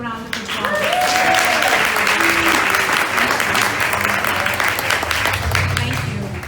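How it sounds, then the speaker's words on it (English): Audience applause at a LitQuake literary reading, with dense sustained clapping from a sizeable crowd filling the room for several seconds and some voices mixed in beneath it. "So to Olga, Judy, James, Kurt, and to Ken, can we give them a round of applause?"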